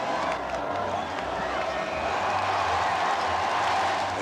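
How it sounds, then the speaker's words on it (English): A large crowd of spectators lining the streets near St. Paul's Cathedral roars in approval at a royal wedding kiss, a dense, steady wash of cheering and voices that holds loud and unbroken throughout. "A kiss, which receives a roar of approval from the crowd."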